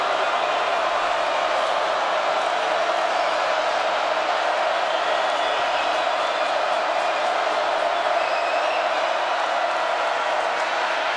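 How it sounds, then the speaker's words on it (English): A large stadium crowd roars steadily at a Division II college football championship, backing the Bearcats, a broad continuous wash of cheering that holds at one level, with commentary voices running over it. "And here comes that crowd to get behind the Bearcats."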